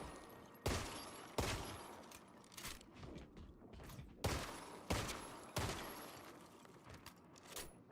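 Gunfire from shooting enemies in the roguelike shooter Armatus, a string of sharp, loud single shots fired at irregular intervals of roughly a second, each with a quick decaying tail, close and alone.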